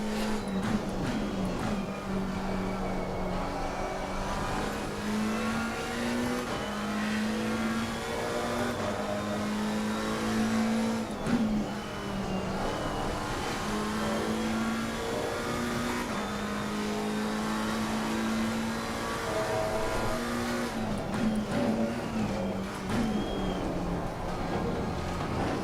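McLaren GT race car engine in Assetto Corsa Competizione at Watkins Glen, a loud, steady in-car drone that climbs and drops through the gears over the whole stretch, with no talking.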